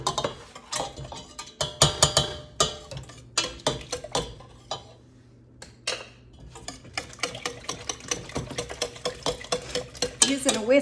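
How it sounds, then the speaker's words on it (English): A whisk beats a banana pudding mixture made with self-rising flour in a pot on the burner, a rapid clattering of metal on the pot in quick bursts with a short pause midway. "Using a whisk gets all the little curdles that may of the flour that may have sort of clumped up in there"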